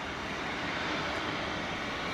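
A jet airliner on its takeoff roll from runway 18 left at Dallas-Fort Worth International Airport, heard as a steady, broad engine roar that holds at an even level throughout without a break.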